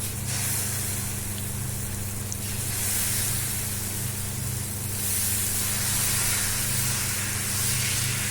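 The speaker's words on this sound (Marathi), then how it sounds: "चला आता मी डोशाचं पीठ तव्यावर घालून घेते" Steady hissing and sizzling of dosa batter on a hot griddle, loud and continuous with a low hum underneath.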